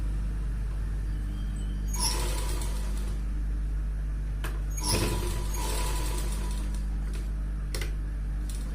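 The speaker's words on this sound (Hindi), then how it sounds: "इलास्टिक को खींचते हुए हमें कपड़े को एडजस्ट करते हुए सीधी सिलाई लगा देनी होगी" A sewing machine stitches elastic onto men's underwear fabric, giving a steady low motor hum broken by a few sharp bursts of rapid clicking needle action.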